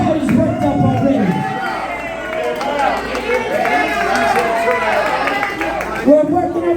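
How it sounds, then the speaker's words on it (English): A worked-up crowd at a live event cheers and chants loudly and continuously, a dense roar of many voices with shouting rising throughout. "The crowd is worked up already."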